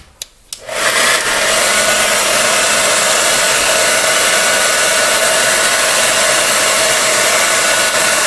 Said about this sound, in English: now what I'm doing is I'm just blowing the heat on here. I'm gonna warm up the glue that's holding it.